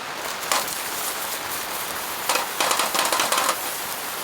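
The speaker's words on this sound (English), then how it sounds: "I hope you can hear me over this rain." Heavy rain drums on a four-season tent during a car-camping storm, a steady dense hiss with brief louder bursts of pattering, close and continuous with no voices.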